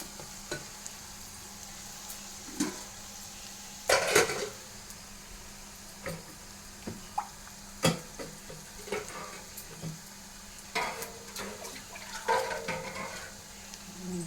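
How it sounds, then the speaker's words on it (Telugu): Water being poured into a pan of reddish-fried spices with dried red chillies, giving a steady hiss broken by bursts of splashing and scraping stirs over about fourteen seconds, with no talking. "వాటర్ పోస్తున్నాను"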